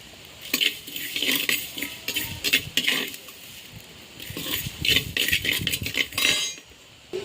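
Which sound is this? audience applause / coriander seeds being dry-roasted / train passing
coriander seeds being dry-roasted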